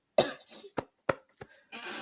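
A woman clears her throat in a few short, sharp bursts separated by brief pauses, close and fairly quiet, with faint breathy sounds in between.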